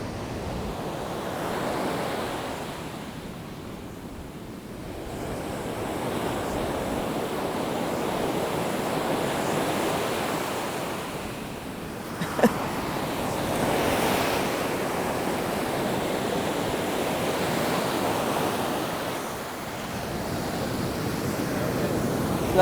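Turquoise sea waves wash onto a white sand beach on Antigua in a lovely breeze, a continuous surf roar that swells and recedes, with wind buffeting the microphone, no talk.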